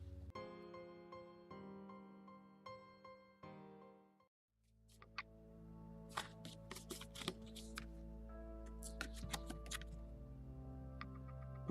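Tarot cards being shuffled, soft close riffling and crisp snaps in irregular bursts over quiet background music.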